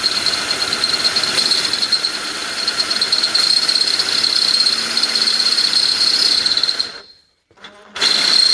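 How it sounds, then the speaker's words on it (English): A power drill whines loudly and continuously as it bores a 9mm hole through thick steel for a rivet nut with a rattling grind, then cuts out, briefly restarts, and stops again. "Next step is to drill the hole out to about a 9mm to accept the 6mm riv nut."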